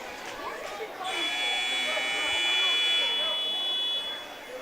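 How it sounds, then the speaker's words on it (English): A malfunctioning scoreboard buzzer goes off at a high school volleyball game, a loud steady electronic tone held for about two seconds over the hum of a gym crowd. "Scoreboard malfunction. Buzzer goes off randomly here on occasion."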